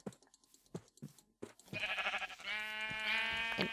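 Sheep bleating in the video game Minecraft: a few short clicks and taps give way to a loud, sustained, wavering bleat that runs close and clear to the end, with no talking.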